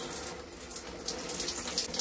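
Water runs and gushes steadily through a lotion pump nozzle being pumped clean at a sink, a continuous hissing flow close by with no talk.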